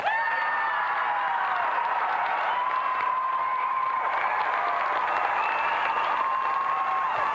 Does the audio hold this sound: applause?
yes